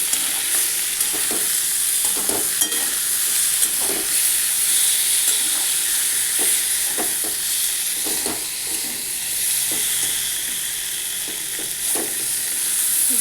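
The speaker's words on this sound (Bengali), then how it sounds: "এটা একটু ভেজে নিই।" Potatoes frying in a pan with salt, sugar and turmeric, a steady loud sizzle and hiss with repeated soft scraping strokes of stirring, close, with no talking.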